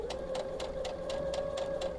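A sewing machine stitches quilt binding, its motor humming steadily with a quick regular pulse of needle strokes, close and alone with no voices.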